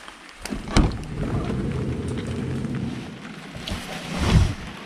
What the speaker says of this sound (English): the noise, because it's raining